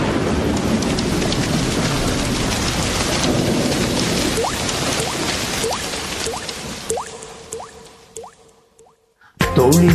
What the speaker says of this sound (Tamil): துளி துளியாய் கொட்டும் மழை துளியாய்